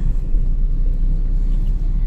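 Low engine rumble heard from inside a vehicle crawling through heavy Manila traffic after leaving Mega Mall, a loud, steady, boomy drone with no clear talk.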